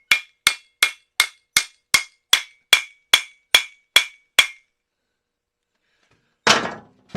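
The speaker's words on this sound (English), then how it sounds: "And the hammer is how we're going to finish it." Hammer striking a U-joint cap during a u-joint install on a kingpin Dana 60 axle for a CJ7: eleven sharp metallic blows at a steady quick rhythm, close and loud, then a pause and a brief scraping clatter.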